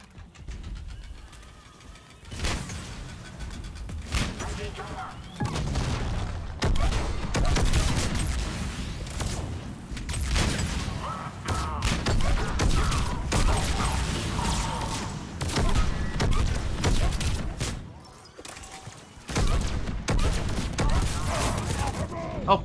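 Mass Effect multiplayer combat with fire explosions and gunfire, a dense, rumbling stream of blasts and mechanical bursts of varying intensity with brief lulls, and a player talking over it.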